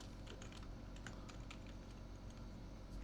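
Soft, steady keyboard typing while entering Python code on a computer, the light key clicks faint and close with a low background hum, no voices.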